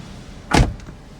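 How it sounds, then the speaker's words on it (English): A Perodua Bezza 1.3 Advance (2020) car door swings shut with a single solid, close thump, followed by a faint rattle and then quiet cabin hush. "So now let's close the door"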